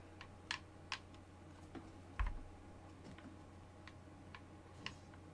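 A computer keyboard is tapped during a Fortnite Creative deathrun, giving a handful of sparse, separate key clicks that are faint and close, with one heavier thump near the middle and no talking.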